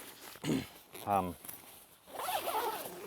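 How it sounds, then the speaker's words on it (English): A zipper on a Snugpak Ionosphere bivvy tent, drawn in short, scratchy pulls near the mic, with a person talking in between the pulls. "zip."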